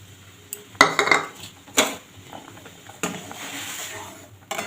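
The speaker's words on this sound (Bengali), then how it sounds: "এইভাবে আমি সুজিটা রান্না করতে থাকবো।" Semolina is stirred into boiling water in a pot, heard as a few scraping, clattering strokes of a spoon against the pot, with a steady bubbling hiss between them.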